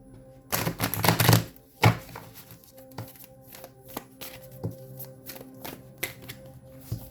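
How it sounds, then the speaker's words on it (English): Tarot cards shuffled by hand in a quiet room, a dense burst of riffling and flicking up front followed by sparser light taps and card slaps, close and fairly soft, no talking. "Hold on, let me shuffle these."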